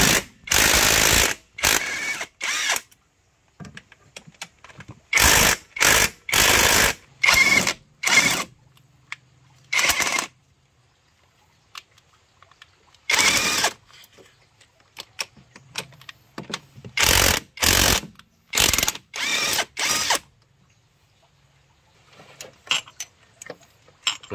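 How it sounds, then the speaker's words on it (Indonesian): An impact wrench removes the left engine mount bolts on a Chevrolet Captiva. Loud, close, rattling bursts of one to two seconds each repeat with gaps of near silence, with the motor idling faintly in between. "Nah sekarang kita lepas bautnya"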